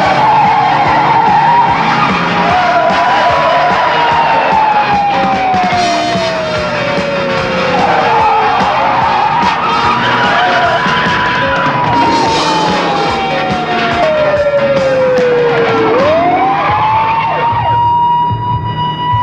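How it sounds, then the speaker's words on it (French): Police car chasing a green family estate car, with tires squealing in long, loud, bending skid tones that rise and fall repeatedly over a continuous roaring engine and road noise. "on est à la poursuite d'une voiture en infraction"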